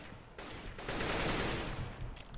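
Dense, continuous gunfire in a Counter-Strike: Global Offensive match, rapid overlapping shots forming a loud, unbroken burst that swells in the middle, with no talking over it.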